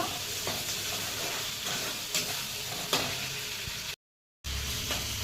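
Spices frying lightly in a pan produce a soft, steady sizzle with faint stirring scrapes and clicks throughout, cut by a brief silent gap near the end.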